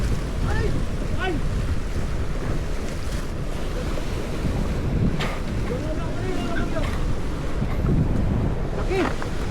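Loud surf crashes and churns around the boat, buffeted by strong wind, while excited voices shout briefly over the waves.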